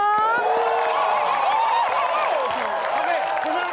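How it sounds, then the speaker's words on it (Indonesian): Studio audience at an Indonesian talent show applauding and cheering steadily, a dense wash of clapping with scattered whoops and voices over about four seconds. "Tepuk tangan dong."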